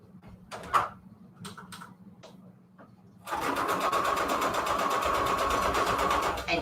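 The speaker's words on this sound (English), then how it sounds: "Okay, so I'm going to just sew this on here." A sewing machine straight-stitches paper pages for a handmade junk journal. After a few soft handling clicks, the machine starts and runs as a steady, close, rapid mechanical whir that continues to the end.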